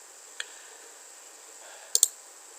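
A computer mouse clicks on a desk during work in PowerPoint: one faint single click, then a quick close pair of sharper clicks a moment later against a quiet, hissy background.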